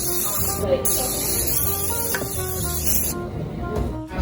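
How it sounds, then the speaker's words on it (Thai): An aerosol cooking spray can hisses in short bursts close by at a Thai-style barbecue grill, with kitchen clatter and a voice speaking in the background. "สเปรย์ค่ะทุกคน"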